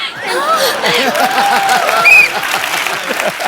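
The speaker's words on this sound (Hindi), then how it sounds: "इसके लिए जोरदार तालियां।" Loud, sustained studio audience applause on a TV comedy show, rhythmic clapping, a few shouts and whoops rising over the crowd throughout.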